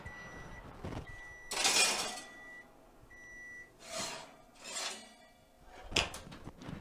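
Homemade croutons are stirred in a cast iron pan, with several soft scraping and rattling bursts between pauses. A steady faint beep tone runs intermittently through the background.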